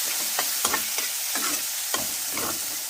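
Spices with salt, turmeric and chilli powder stirred in a hot pan: scraping strokes over a steady oily sizzle, several distinct scrapes in quick rhythm, close and fairly loud, no voices.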